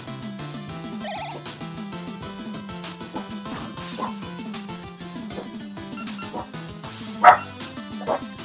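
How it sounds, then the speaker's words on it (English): A household pet dog guarding the home barks a few times, sharp and fairly close, over steady video game music from an Axe Cop game playing in the room. "My dog is getting ready to start barking"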